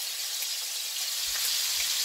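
Country ribs sear in a hot skillet, giving a steady, dense sizzle that holds evenly throughout at close range, with a few soft low bumps near the end and no voices.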